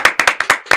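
Six sharp hand claps in a quick, slightly uneven rhythm, close and loud, from a host in a women's podcast studio calling for a round of applause.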